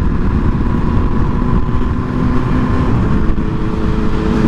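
Motorcycle engine running steadily near the rider during wheelie practice on a mellow day in Northern California, a continuous low drone with mild throttle variation and no talk.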